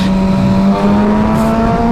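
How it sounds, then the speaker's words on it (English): A Suzuki GSX-R750 K7 motorcycle's engine and exhaust sound while it is ridden on the road: a loud, steady, close engine drone whose pitch edges upward toward the end, with no talking. "The note of the exhaust of the engine instantly starts to scream and cry out for more."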